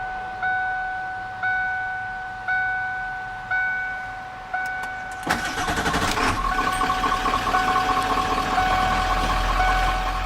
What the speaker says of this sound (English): Now let's give a startup of the diesel.